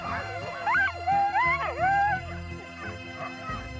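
Several sled dogs howl together nearby, their long, wavering cries rising and falling and overlapping loudly, then fading toward the end with no voices present.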